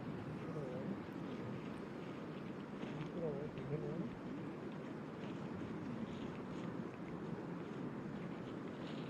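Steady wind gusting across an open golf course on the opening day of the WEMIX Championship, a constant broad roar against the microphone with faint voices murmuring underneath throughout.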